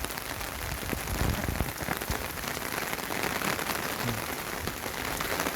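Rain falls steadily in Busan, a dense even patter of drops on surfaces with no pauses, moderately loud and close.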